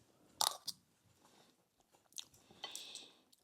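Crunchy bites and chewing of a bowl of oats mixed with whey, almond butter, blueberries, cinnamon and salt, a few close, quiet crunches scattered over a few seconds with no talking.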